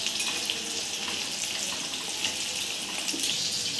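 Thick home-cut pieces of chilli chicken frying in oil, a close, steady crackling sizzle that runs unbroken with no voices over it.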